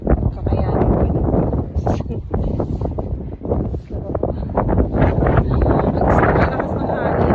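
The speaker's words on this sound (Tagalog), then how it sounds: "Malakas kasi ang hangin." Loud, constant wind buffets the microphone throughout, roaring and gusting close up with a steady rumble.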